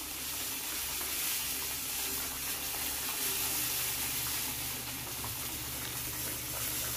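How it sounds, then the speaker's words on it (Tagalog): Fish steak in soy sauce simmers in a pan, giving a steady, close bubbling sizzle with a faint watery hiss that holds even throughout, with no talking. "So hayaan nyo lang siyang kumulo."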